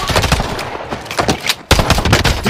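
Gunfire in a video game, rapid bursts of loud close shots in quick succession, broken by a brief gap before another dense volley.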